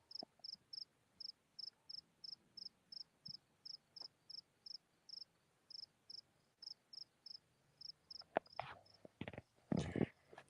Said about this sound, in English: I don't know if you can hear the crickets out there or not.